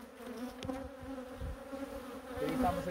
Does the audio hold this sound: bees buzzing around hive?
yes